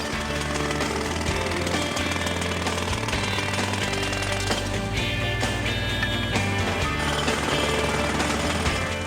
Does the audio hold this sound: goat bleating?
no